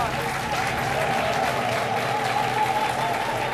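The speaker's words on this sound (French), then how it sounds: "c'est réconfortant, hein, ces applaudissements, ces encouragements du public" Studio audience applauding on a French-language midday TV talk show, steady dense clapping filling the whole stretch with a faint crowd murmur underneath.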